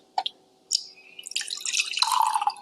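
Water is poured into a cup fitted with a clip-on liquid level indicator, beginning with a few sharp drips and then building into a bright, continuous splashing pour that grows fuller, close and alone.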